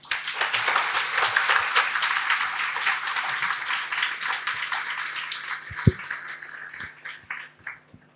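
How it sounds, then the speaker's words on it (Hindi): An audience at a toppers' talk in Jaipur claps loudly and densely at first, then the applause gradually thins into scattered individual claps and fades out near the end, with one sharp knock partway through. "फिर एक तालियों की गड़गड़ाहट के साथ हम करते हैं"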